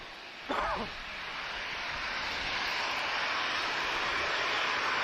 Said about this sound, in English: Oh! 757.